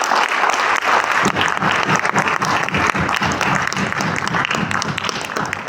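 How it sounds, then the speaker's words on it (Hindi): Steady audience applause fills a product training event, dense many-handed clapping holding at a loud, even level throughout. "तालियां कम है दोस्तों।"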